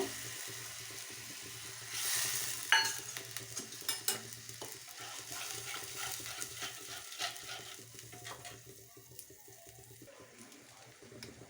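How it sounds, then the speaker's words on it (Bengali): Spices frying in oil in a pan while being stirred, a soft sizzle with scattered scraping clatters and a brief louder burst early on, fairly quiet overall. "তো আমি তেলের মধ্যে মশলাগুলো সব দিয়ে দিলাম। মশলাটা একটু কষিয়ে নেব।"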